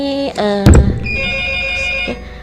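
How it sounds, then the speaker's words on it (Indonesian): A telephone rings for a live interactive call-in on a radio-style health talk show, with a short tonal ring burst, a sharp click, then a sustained high electronic tone, loud and close. "Apakah bisa diangkat untuk telepon interaktifnya?"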